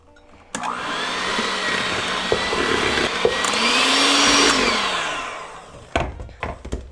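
Electric mixer beating butter with rice flour and corn masa for pineapple tamales, a loud continuous whirring drone that swells and fades over several seconds, then clicks and clatter as it stops.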